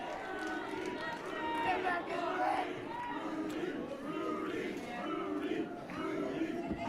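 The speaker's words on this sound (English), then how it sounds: "we have a Rudy chant going in Nanaimo right now" Crowd at a VI Pro Wrestling show in Nanaimo chants in rhythmic, repeated swells, loud and rowdy, with commentators talking over the noise.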